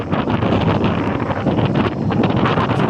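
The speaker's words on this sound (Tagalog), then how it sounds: "napakalakas ng hangin dito" Strong wind roars steadily against the microphone, a dense continuous rumble and hiss with no voices.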